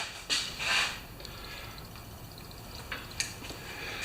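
Fuel from a Kohler engine's tank on a Craftsman riding mower dribbles out in faint, scattered drips and short splashes after the hose clamp is removed, quiet and fairly close.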